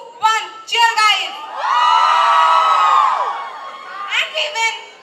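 Youth festival audience cheering and hooting in loud bursts, with high whoops and shouts swelling into a sustained roar of the crowd before trailing into scattered short yells.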